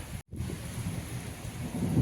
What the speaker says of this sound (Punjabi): ਮੌਸਮ ਹੁਣ ਵੀ ਮੀਂਹ ਪਈ ਜਾਂਦਾ